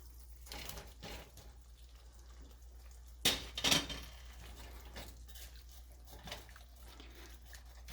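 Potatoes go into a pot of spiced curry for an eggplant and goat meat dish: two brief clattering knocks in close succession, over a faint, steady background hum in a quiet kitchen.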